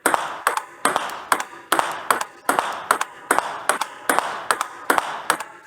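A table tennis ball is struck with backhand loop strokes in a steady rapid rhythm, sharp crisp pings alternating with softer bounces, about a dozen hits in a few seconds, close and clear.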